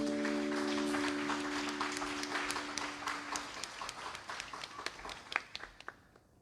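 Congregation clapping during a church prayer service, dense applause fading into scattered individual claps, with a sustained organ-like tone underneath at first.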